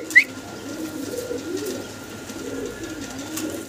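Pigeons for wholesale sale coo steadily in a low, rolling rhythm, close and moderately loud, with one brief sharp chirp at the start and no talking.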